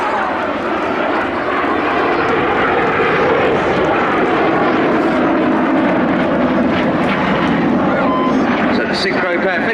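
Red Arrows jets flying double rolls at 100 feet during an armed forces day air show in Cleethorpes, a steady, loud, continuous roar of jet engines filling the whole stretch with no let-up, with a commentator's voice over a loudspeaker.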